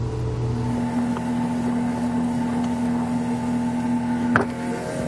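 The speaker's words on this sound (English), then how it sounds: "we can go ahead and raise our spare tire back into position" A 2020 Acura MDX's spare tire being cranked up on its winch, a steady mechanical whirring hum with a sharp clunk near the end.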